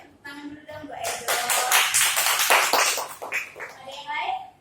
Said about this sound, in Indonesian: tepuk tangan dulu dong buat Edo